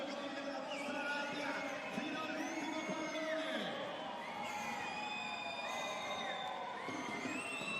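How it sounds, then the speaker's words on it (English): Lube volleyball fans cheer inside an arena during a Superlega match, a sustained crowd roar with shouts and whoops rising and falling, moderately distant, under a commentator's voice. "Now the Lube fans are cheering."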